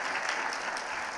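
A church congregation at a Sunday service applauds newlyweds, a short burst of dense, steady clapping from many hands in the hall.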